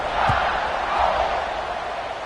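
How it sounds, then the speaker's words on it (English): Stadium crowd buzz in a college football video game, a steady, dense roar of many voices holding at a constant level throughout with no clear individual sounds standing out. "this crowd is buzzing after that last score"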